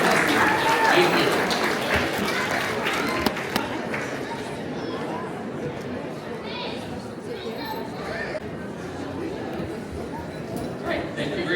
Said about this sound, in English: A round of applause as we go for each contestant.